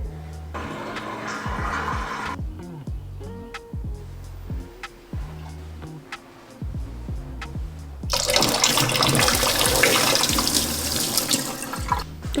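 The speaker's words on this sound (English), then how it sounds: "Let me fill this kettle up." Water runs from a kitchen tap into a kettle, rising into a louder, steady rushing pour in the last few seconds, over a background of clattering and thumps from a running dishwasher.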